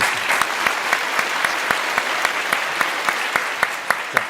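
Steady applause from a crowd, with sharp claps standing out above a dense wash of clapping throughout.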